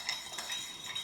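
A utensil stirs flour batter in a bowl in a home kitchen, giving a continuous soft scraping with faint clinks against the bowl, close and quiet with no voices.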